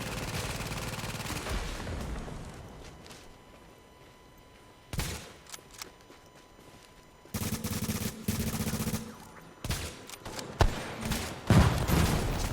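Sniper rifle in a video game, several sharp isolated cracks spread apart, with heavier bursts of gunfire and rattling action later on, moderately loud over a quiet background.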